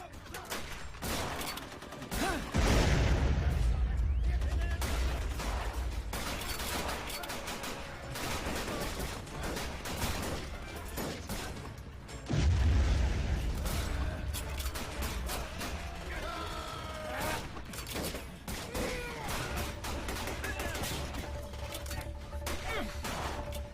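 Battlefield gunfire and exploding shells, dense crackling rifle and machine-gun bursts throughout with two heavy booming blasts, one early and one about midway, loud and close.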